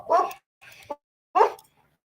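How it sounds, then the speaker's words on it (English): A dog barks outdoors, three sharp barks in an uneven pattern with short gaps between them, close and fairly loud. "Oh, that's the dog barking."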